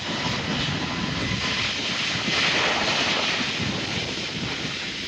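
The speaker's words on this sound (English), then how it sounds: "got the Delta A321neo heading to JFK" A Delta Airbus A321neo airliner departs for JFK from San Juan, a loud, continuous jet engine roar swelling slightly midway and holding steady throughout, with no speech.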